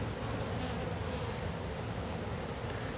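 Honeybees in a nuc hive being expanded to eight frames give off a dense, steady, close buzzing that holds at the same level throughout, with no voices.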